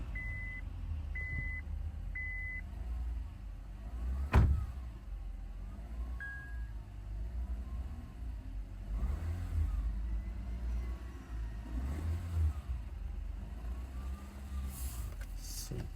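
A Honda car with its engine warning light on starts up and settles into a steady low idle rumble, with a few short electronic beeps near the start and a sharp burst as it fires.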